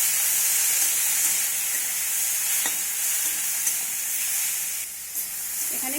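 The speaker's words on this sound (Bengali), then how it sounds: "যেহেতু গুঁড়ো মশলা দিয়েছি তাই অল্প একটু জল দিয়ে সব কিছু সুন্দর করে আমি কষিয়ে নেব" Potato and bitter gourd sauté with turmeric and ground spices plus a splash of water in a pan, giving a loud, even, close hiss and sizzle throughout, with a brief stir or scrape near the end and no speech.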